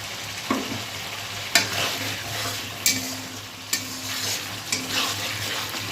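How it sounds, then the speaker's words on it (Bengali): Spiced bhola fish masala fries and sizzles in a pan while a spoon scrapes and stirs it, with a few sharp clinks against the pan over a steady close sizzle; no talking. "এখন ভালো করে নেড়ে এগুলো সব মিশিয়ে দেবো।"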